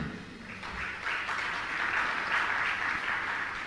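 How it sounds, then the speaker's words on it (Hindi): An audience at a Jain religious discourse claps steadily, a dense, even patter of many hands that builds slightly and continues throughout without any talking. "तालियां तो बजा रहे हो"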